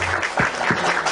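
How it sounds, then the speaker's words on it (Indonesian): Brief burst of audience applause at an Indonesian panel discussion, a steady wash of many hands clapping with no voices over it. "Kasih tepuk tangan."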